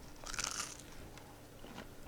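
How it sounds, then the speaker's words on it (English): Close, crisp crunching as a bite is taken from fried panko-crusted chicken katsu, a loud crackly burst followed by quieter chewing crunches, with no talking over it. "You hear the crunch?"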